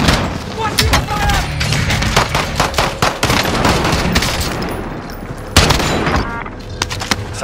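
Dense gunfire in the Call of Duty: Modern Warfare video game, with rapid automatic bursts and sharp shots crackling loudly throughout, plus a heavier blast partway through and radio-style voices mixed in.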